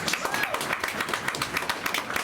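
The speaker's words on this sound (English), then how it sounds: "how about a great big round of applause" An audience applauds at a railroad show with steady, fairly loud clapping that spreads through the crowd, and voices talk underneath.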